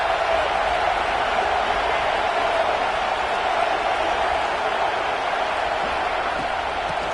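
Stadium crowd roar in a college football video game matchup between Michigan State and Maryland, a dense, steady wash of cheering that holds at one loud level without breaks.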